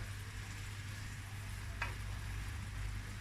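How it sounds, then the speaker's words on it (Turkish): Chopped leeks sauté in oil on a stovetop, giving a quiet, steady sizzle and crackle with a brief stir scrape partway through. "Pırasam ocağıma aldım. Ve pırasalar iyice kavrulacak."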